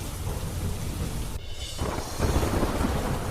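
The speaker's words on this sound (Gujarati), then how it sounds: "સોનિકપુર, રઘુનાથપુરમાં ખાબક્યો ધોધમાર વરસાદ" Heavy downpour in Sonikpur and Raghunathpur, Gujarat, a dense steady hiss of rain with deep thunder rumbling through it.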